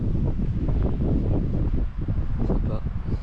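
Blustery wind sweeps over an exposed resting spot on a French long-distance hiking trail in Auvergne, buffeting the microphone with a constant heavy rumble and rushing gusts that dip briefly near the middle.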